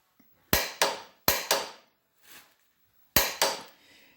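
Torquing a 3/4-inch coarse grade 8 bolt to 200 foot-pounds on a Land Pride RB1660 rotary cutter blade: sharp, close metallic clicks come in quick pairs with short pauses between, in an otherwise quiet space.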